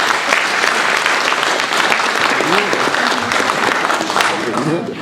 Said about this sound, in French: Là, je sens que les applaudissements sont moins nets.